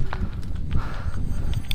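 A horse being led along a hillside path in Darjeeling, hooves clopping lightly in an uneven walking rhythm, faint and somewhat distant beneath steady ambient noise.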